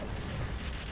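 Dense, continuous explosive rumble from a bombardment in a Doom deathmatch, a thick wall of booms and blasts with no gaps, steady and moderately loud throughout.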